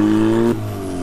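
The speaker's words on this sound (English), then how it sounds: "Alright, the car is back up and running again." A turbocharged Mazda Miata engine runs steadily and loud at close range, its tone dropping slightly as the revs ease off about halfway through.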